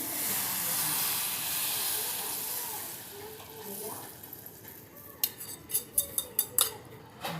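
Tempering spices crackle and sizzle over kadhi made with besan and yogurt: a steady hiss at first fades, then sharp spitting pops and clinks break out near the end.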